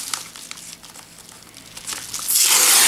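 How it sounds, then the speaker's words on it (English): Plastic shrink wrap is peeled and crinkled off Blu-ray disc cases, with soft intermittent crackles that swell into a loud, dense tearing rustle near the end, close up with no talking. "I might unwrap some of these, but not all of them"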